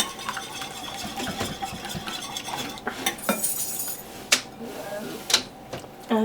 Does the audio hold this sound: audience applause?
no